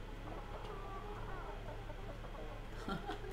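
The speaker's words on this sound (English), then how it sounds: "That's one of my favorite things about Atlas is the chickens." Chickens in the survival game Atlas give soft, low clucks over a steady hum of game ambience, with a few sharper bird calls near the end.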